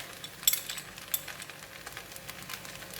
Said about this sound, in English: now I'm going to put in the Chinese parsley, all the garlic